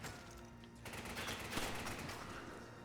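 Rapid gunfire bursts from a shooter video game in the Resident Evil setting, a dense crackling volley sustained for about two seconds over the game's ambient noise, with no talking.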